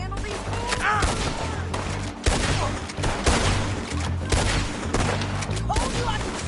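Rapid bursts of gunfire in a Red Dead Redemption II shootout, loud and dense, with repeated shots and booms crowding the whole stretch.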